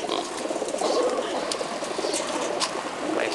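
Racing pigeons in a loft coo steadily and continuously at close range, a dense flock murmur with occasional brighter calls, and no talking over it.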